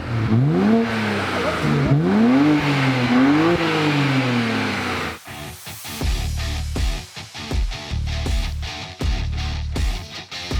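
A BMW 335i engine warming up, revving repeatedly in rising and falling sweeps, then breaking into choppy, pulsing bursts of close, loud engine noise.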